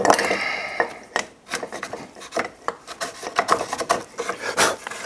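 Chisel paring wood at a bridle joint on a new deck baluster, a series of close, dry rasping scrapes and short shaving strokes in an uneven rhythm, with no talk.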